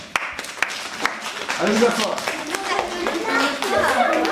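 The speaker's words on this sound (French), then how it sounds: "Bravo, on peut les applaudir." Children and adults clapping for a school show in France, sharp scattered claps at first that swell into fuller applause, with a voice and an adult speaking over it.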